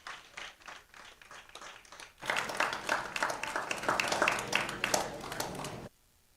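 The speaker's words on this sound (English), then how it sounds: "Standing ovation from the crowd." Crowd giving a standing ovation at a college baseball game, applause swelling suddenly after a quieter opening and holding steady for several seconds before cutting off, with faint talk underneath.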